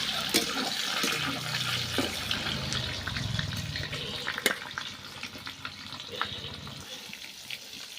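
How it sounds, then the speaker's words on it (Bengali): Soybean chunks frying in oil in a kadai after potatoes, a steady sizzling hiss with scattered crackles and pops, close and continuous with no talk over it. "আলুটা ভেজে নিয়েছি, সোয়াবিনটা ভাজবো।"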